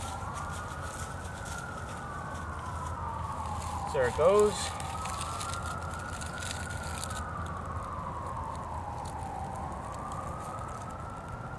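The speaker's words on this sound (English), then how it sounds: "Lovely sirens in the background." Emergency sirens wail in the distance during a fall outdoor fire-starting session, their slow rising and falling tone running steadily throughout, faint under ambient noise, while someone briefly speaks and a short clatter sounds midway.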